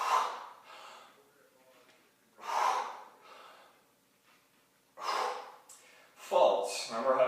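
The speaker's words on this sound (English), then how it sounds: "Breathing will look like this." Heavy, forceful exhalations repeat in slow bursts during kettlebell squats, each breath a loud rasping push separated by brief pauses, with a sharper gasp near the end.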